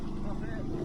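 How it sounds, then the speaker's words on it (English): An outboard motor on a small sailing project boat revs and labours as it lifts out of the water in the swell, a loud continuous engine drone with a rough, wavering pitch. "you can actually hear the outboard coming out of the water in the swell"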